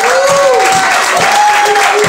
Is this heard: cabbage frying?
no